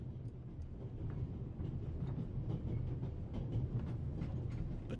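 A train runs steadily along its rails, with a dense low rumble and faint rhythmic rattling heard from inside the carriage, continuous throughout.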